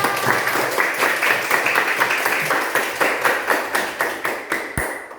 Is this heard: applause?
yes